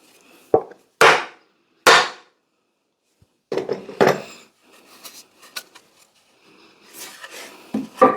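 A hammer drives a wedge into an axe head with sharp wooden knocks, three spaced hits, then a denser run of lighter taps and scrapes, close and crisp with quiet gaps between.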